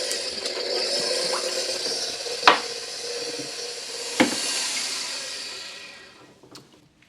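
Sugar being mixed into a runny strawberry lemon loaf batter, a steady soft scraping and stirring rattle with two sharper knocks of the utensil against the bowl, close and without talk.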